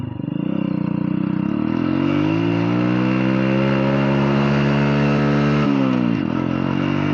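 A TVS Sport motorcycle engine revs loud and close, climbing steadily in pitch as it accelerates. It drops sharply at a gear change near the end and then climbs again, with no talking over it.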